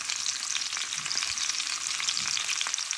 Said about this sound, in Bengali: আমি জিরা দিয়ে দিলাম, এই জিরাটা একটু ভাজি নিলাম, পেঁয়াজটাও ভাজি নিলাম